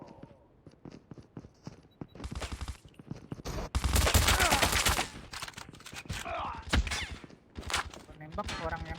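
Rapid gunfire bursts from the mobile shooter game Call of Duty Mobile rattle through a busy firefight, mixed with in-game callouts and a player talking over the action.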